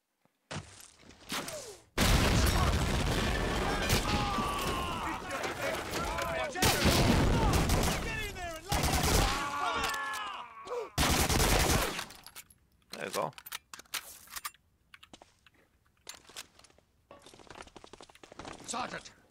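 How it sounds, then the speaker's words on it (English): Intense combat gunfire from Medal of Honor Allied Assault Spearhead, with loud sustained bursts of rifle and machine-gun fire and heavy impacts, then scattered shots thinning out toward the end; voices call out over the battle. "Lay down covering fire."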